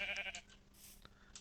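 Sheep bleating in the Minecraft video game, two or three short nasal bleats in quick succession, close and clear with no talk over them.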